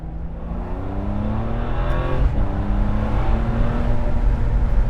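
A Ferrari 599 GTB's V12 engine accelerates as heard from inside the well-insulated cabin, a steady rising drone with harmonics climbing in pitch, then a shift and another climb, with no talk over it.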